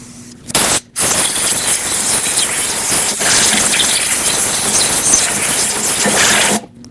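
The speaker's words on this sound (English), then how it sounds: "And then use some compressed air to blow it out." Compressed air blasts into the intake port of a 2006-2015 Lexus IS250 engine during knock sensor work: a loud, harsh hiss with a short puff, a brief gap, then one long sustained rush before it cuts off.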